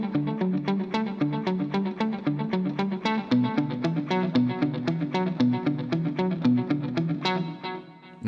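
An electric guitar plays a quick picked pattern through a dotted-eighth delay patch with no compression, the repeats blurring into a shimmering, slightly distorted stream before the notes fade at the end.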